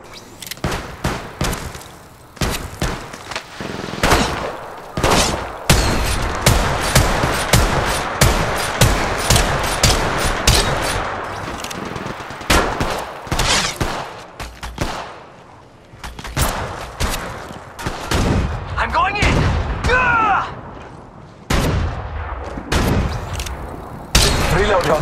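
Dense gunfire in the mobile battle-royale shooter Apex Legends Mobile, with rapid bursts and single shots crackling almost nonstop, loud and close, mixed with occasional thuds and a player's voice calling out during the fight.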